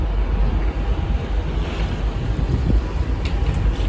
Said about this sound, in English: Very windy, but then I guess I'm quite high up.